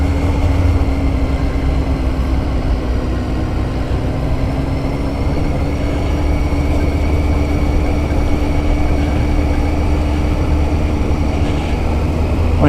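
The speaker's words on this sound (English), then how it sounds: "both of these bike engines will rev and rev and rev." Motorcycle engines run steadily and loudly throughout on a tour of the Lake District passes, a sustained low engine drone with a faint rising whine and no clear talk.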